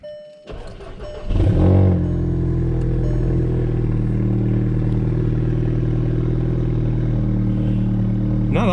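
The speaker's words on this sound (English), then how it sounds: "So I'm gonna give the cold start." A 2017 Volkswagen GTI engine with a GTX3071R turbo cold-starts on a 41-degree morning: a brief crank, then a loud catch and a steady, close idle that runs on evenly with no talk over it.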